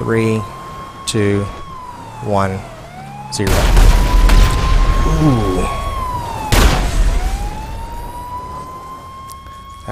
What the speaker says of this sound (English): You can hear the explosions going on right now.